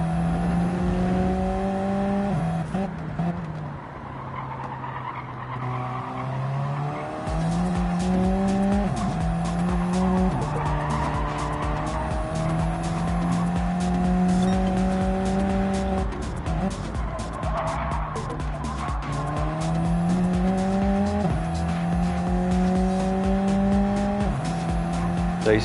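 Alpha race car on an out lap around Interlagos in the GenX Racing game, its engine droning steadily through repeated gear changes and rising revs, with occasional tire squeal, close and continuous for the whole stretch.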